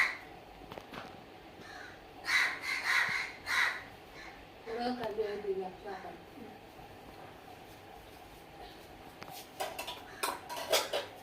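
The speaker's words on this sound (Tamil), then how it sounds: "காக்கா எப்படி கத்துது பாருங்கள் மக்களே" Two crows caw loudly from the compound gate outside a home, giving harsh repeated calls in bursts across the clip, alongside clattering dishes and some background voices.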